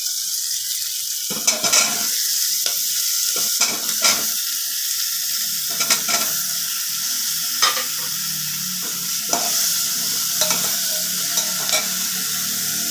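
Carrots and papaya fry with lightly browned onion in a pan for a chicken stew, giving a steady close hiss of sizzling broken by periodic scraping thuds of stirring.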